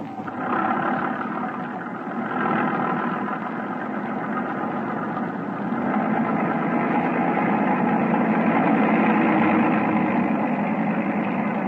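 A steady, droning boat engine running at full throttle, loud and close, its rumble swelling slightly partway through.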